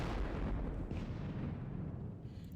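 Massed musket volley gunfire from a Napoleonic-era battle in a war video game, a dense continuous rumble of booming shots rolling together without a break, loud and steady with no talk.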